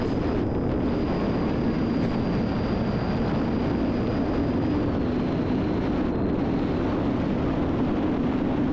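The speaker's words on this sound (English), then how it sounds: "You do a few flybys, see how it feels." A small bush plane making low passes over a Hatcher Pass area, heard as a steady broadband engine drone with a faint high whine, continuous and fairly loud, blended with wind noise and no talk.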